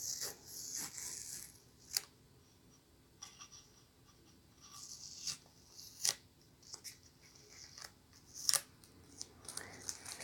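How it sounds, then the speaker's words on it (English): Masking tape peeled off a guitar headstock after new tuner holes are drilled, heard as quiet scattered crackly rips and sharp ticks over roughly ten seconds, close and alone without talk. "Take this tape off and see if we got any tear out."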